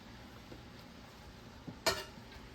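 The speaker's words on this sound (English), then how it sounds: "I'll stir this up." Cabbage with Worcestershire sauce and black pepper is stirred in a pot with bacon and sausage, giving faint soft scrapes and a single sharper clank of the spoon against the pot under a quiet low hum.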